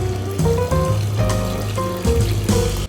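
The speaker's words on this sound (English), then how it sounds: "So we keep filming these water fountains." Water from a public fountain in Lucerne, Switzerland runs and splashes steadily nearby, a continuous trickling flow amid street noise.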